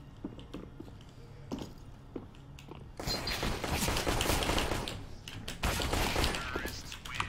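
CS:GO pistol-round gunfight in a Wingman match: a few scattered light shots and clicks, then a dense, loud burst of rapid overlapping gunfire lasting several seconds with brief pauses.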